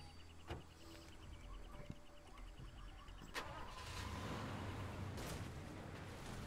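A car engine in the video game Far Cry 2 starts and then runs at a steady idle, with a couple of sharp knocks and a fuller rumble in the second half.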